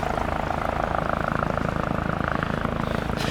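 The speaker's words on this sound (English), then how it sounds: "the noise of the many helicopters" A helicopter flying overhead in New Zealand's South Island makes a steady, close rotor drone with fast pulsing beats that continues without pause throughout.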